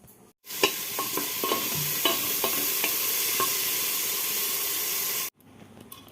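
Chopped vegetables are stirred in a hot pan to make oats, a continuous loud sizzle and hiss with a few scraping clicks of the spoon, ending abruptly after about five seconds.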